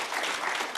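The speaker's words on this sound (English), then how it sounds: "Why don't we give a round of applause" A brief burst of audience applause for a judge at a university authors forum, dense and steady clapping from a crowd with no pauses.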